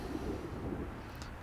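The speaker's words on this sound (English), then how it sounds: "You can probably hear the thunder and lightning in the background there." Low, distant thunder rolls beneath steady rain on a riverbank of the Norfolk Broads at Stalham, a continuous soft rumble with no talking.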